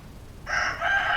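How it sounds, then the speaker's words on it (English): A rooster crows once just outside a door, fairly distant and faint, the call rising sharply and holding briefly. "the rooster outside the door"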